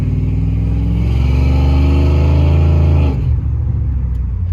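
A lifted 2003 Dodge 2500 SLT 4x4 truck with a 5.7L HEMI accelerates with a loud, close engine roar that rises steadily for about three seconds, then eases off to a lower drone.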